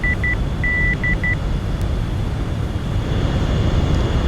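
In the SR-71 Blackbird cockpit of Flight Simulator X, a cockpit warning beeps in short repeated tones, one longer and several brief, over a loud steady rumble of engine and wind.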